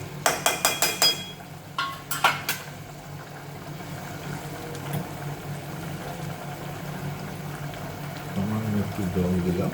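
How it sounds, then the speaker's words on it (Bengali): A little water is poured into curry cooking with fried potatoes: a quick run of clattering knocks, then a steady wash of liquid and bubbling, with a voice speaking over it. "সামান্য একটু জল দিলাম, জল দিয়ে"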